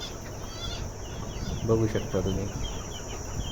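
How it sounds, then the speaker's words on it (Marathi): Free-range country chickens on a farm in Khedgaon, Chalisgaon, clucking in soft, scattered bursts with a louder pair of calls near the middle, heard under a man's speech and steady outdoor insect hiss. "गावरानी कोंबड्या आहेत"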